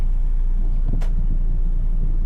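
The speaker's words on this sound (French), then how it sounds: "Je crois que c'est notre bus en passe." Bus on a street in Da Nang pulling up to a stop, a loud low engine rumble throughout with a brief sharp hiss of air brakes midway.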